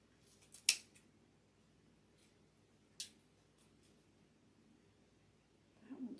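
Scissors trim material on a bicycle wheel Easter wreath, two crisp isolated snips close by, separated by quiet, with a faint rustle at the end.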